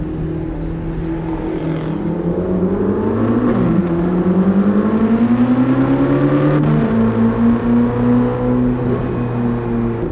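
A 2025 Chevrolet Corvette ZR1 on the Daytona track, its exhaust roaring close and loud as it accelerates hard through rising gears, with engine pitch climbing, dipping at shifts and climbing again.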